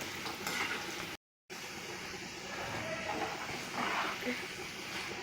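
Roasted chana dal frying in hot oil for murmura chivda, giving a steady, dense sizzle and crackle throughout, broken by one brief moment of silence.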